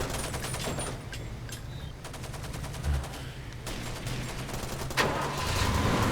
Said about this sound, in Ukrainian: Так, за кулемет.